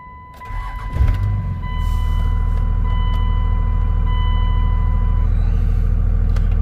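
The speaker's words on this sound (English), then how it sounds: "and start the truck" A Cummins diesel pickup truck cranks briefly, catches and settles into a loud, steady low idle close by, with a chime sounding at the start.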